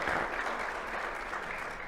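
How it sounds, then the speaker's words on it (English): Applause from dinner guests at a benefit dinner honoring the kitchen staff and servers, a brief soft wash of clapping from the room. "let's give a round of applause for the kitchen and the servers"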